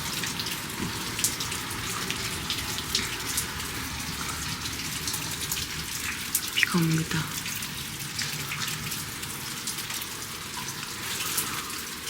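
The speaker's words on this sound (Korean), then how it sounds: "밖에 비가 와요." Steady rain falls outside lodging in a mountain town during a storm, a constant broadband hiss with scattered drips and a brief splash or knock near the middle, no voices.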